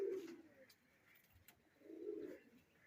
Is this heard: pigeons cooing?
yes